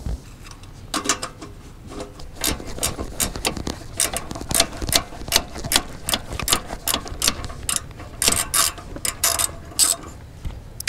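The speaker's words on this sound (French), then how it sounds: "là je vais prendre une clé à cliquer à œillet" Ratchet ring wrench working a lambda sensor loose on a Ford Mustang, rapid clicking ratchet strokes repeated in quick bursts, close and loud, with brief pauses between runs.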